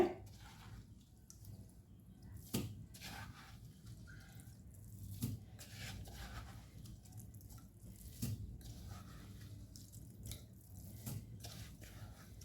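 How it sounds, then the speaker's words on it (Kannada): Wet squelching and soft dripping as soaked rice semolina is squeezed by hand, with a few sharper splashes and drips recurring every couple of seconds, close and fairly quiet. "ಅಕ್ಕಿ ರವೆ, ಅದನ್ನು ಹಿಂಡಿ ಬಿಟ್ಟು ಹಾಕ್ತೇನೆ ಇದಕ್ಕೆ"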